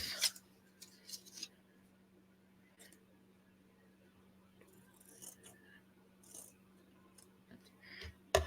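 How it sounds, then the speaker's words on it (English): Small scissors trimming a tiny point off a dollhouse craft piece, a few faint close snips and rustles spread out over a quiet background hum. "And I trim this little point off."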